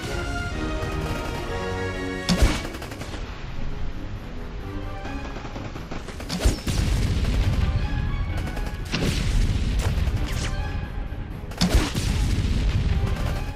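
Gunfire and explosions from the PS3 game Rambo: The Video Game, with sharp booming blasts at intervals over a dense, continuous battle din and backing music, loud and close.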